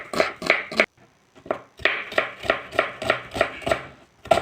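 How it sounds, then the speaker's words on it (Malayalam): Steady knife chopping of onion on a board, cut thinly, sharp close taps in quick rhythmic bursts with a brief pause, no voices. "സവാളയും കൂടെ നമുക്കൊന്ന് ചെറുതായിട്ട് കട്ട് ചെയ്തെടുക്കാം."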